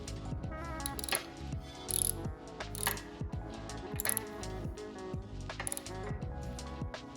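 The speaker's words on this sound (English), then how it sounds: "Once you tighten the screw on the outside of the stand frame connecting the support rail, you will tighten the screw on the L bracket" Screws being tightened on the metal stand frame and L brackets of an Ez Trim cannabis bud sorting table during assembly, a close run of repeated ratcheting clicks with sliding metallic sweeps and occasional sharp clinks.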